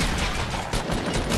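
Shotgun gunfire in the Fortnite Battle Royale video game, a dense, loud burst of shots across a short moment with no talk over it.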